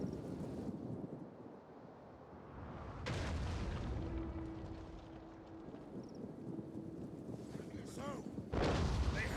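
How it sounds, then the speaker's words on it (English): Bombard artillery firing during a battle in Total War Medieval Kingdoms, heavy booming blasts with rumbling battlefield noise, a sharp loud burst near the end, under a steady din. "The bombard over here, I think, is doing all the work."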